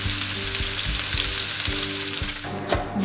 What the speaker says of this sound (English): Now I'm going to cook this for 7 to 8 minutes until it's nice and golden.